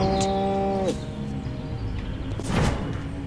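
A cow in the video game Destroy All Humans lets out a loud, drawn-out moo that cuts off abruptly, followed by a sharp thump and scuffling against a constant background hum.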